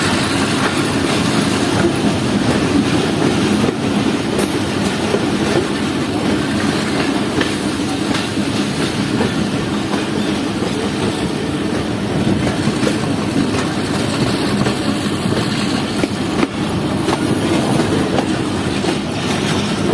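A Jaffer Express passenger train runs between Peshawar and Lahore, with loud continuous rumble and rhythmic clickety-clack of the wheels over the rails. Faint hiss and squeal sit over the steady roar for the whole stretch, and nobody speaks.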